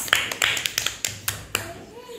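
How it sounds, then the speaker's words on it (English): A few children clap in an early English reading activity, sharp scattered claps spread irregularly across the moment, close and fairly loud, with faint background sounds between them. "Very good. Claps."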